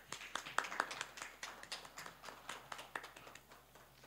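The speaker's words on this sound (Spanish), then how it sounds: "Pues un aplauso." Sparse, quiet clapping from a small audience at a Guatemalan medical association ceremony: distinct individual hand claps in an uneven rhythm that slowly thins out.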